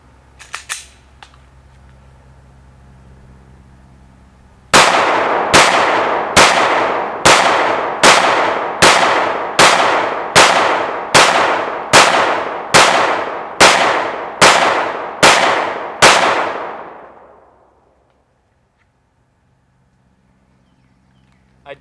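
A Glock 19 Gen4 fires a magazine of 115 grain Winchester USA white box 9mm rounds, fifteen sharp loud shots in quick steady succession, each ringing briefly before the next, then fading into quiet.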